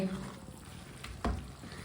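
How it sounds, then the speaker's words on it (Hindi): Chicken cooks in a pan as a spoon stirs it, with a faint sizzle and one clear scrape of the spoon against the pan. "इसी तरह चम्मच चलाते हुए पका लेते हैं दोबारा"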